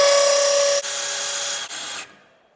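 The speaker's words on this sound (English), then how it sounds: "I'm going to use a 7/32 drill just to start them" A power drill with a 7/32 bit starts holes in a Lucid VSL JK Series part, whining steadily at close range through two brief dips before cutting off abruptly.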